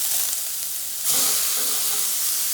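Skirt steak sizzling on a Lodge Sportsman's Pro cast-iron charcoal grill, a steady hiss that jumps to a louder, fuller sizzle as the meat is turned, with no talking.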